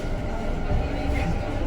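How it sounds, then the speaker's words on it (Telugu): Delhi Metro train heard from inside, a continuous low rumble and rolling roar filling the whole short stretch at an even level. "ఢిల్లీ మెట్రో."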